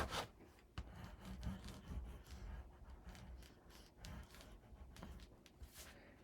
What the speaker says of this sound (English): Let's burnish this piece.